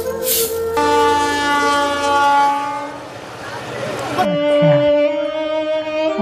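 A crowded passenger train sounds loud and sustained, with a long horn blast that changes pitch partway through over rumbling wheels and carriage noise. No one is heard speaking.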